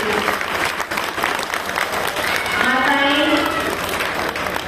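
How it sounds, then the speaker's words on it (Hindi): Energetic crowd clapping at a Shivaji Jayanti celebration, dense and continuous, with a voice speaking over it partway through. "तालियां बजाती रहेंगे"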